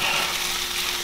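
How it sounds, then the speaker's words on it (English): Rice frying in a hot pan, a steady dense sizzle with crackling, close and loud, continuing without a break or any voice. "you guys hear that sizzle?"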